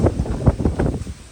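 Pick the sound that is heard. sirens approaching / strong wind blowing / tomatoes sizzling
strong wind blowing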